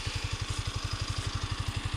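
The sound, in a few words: Yamaha MT-125 motorcycle engine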